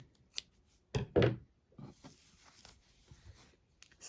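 Scissors snipping crochet yarn on a finished heart piece, a few short close crisp cuts and clicks separated by quiet gaps.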